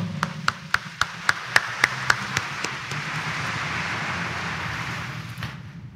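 Church congregation clapping in praise: about a dozen sharp, evenly spaced claps open the moment, then dissolve into a softer rolling wash of many hands and room reverberation before fading away.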